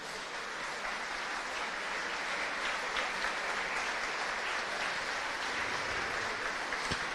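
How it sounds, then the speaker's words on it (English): Steady crowd applause fills a stadium after the All-Ireland U23 camogie championship final between Cork and Galway, a continuous dense patter of clapping heard from a distance and lasting the whole stretch. "So a round of applause there for Uachtaráin coming Camogie na Héireann, Brian Malloy, as he leaves the field"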